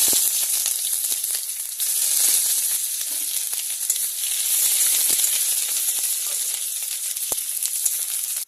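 Onion, panch phoron five-spice and a dried red chili sizzle steadily in hot oil, a loud, continuous close-up frying hiss with small crackles and no voices.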